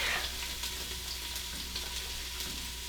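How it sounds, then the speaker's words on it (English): Chopped jalapeno and minced garlic sizzling in a hot pan, a continuous bright hiss with faint crackles, steady and close with no talk. "I'm going to add one chopped up jalapeno, 4 or 5 cloves of minced garlic,"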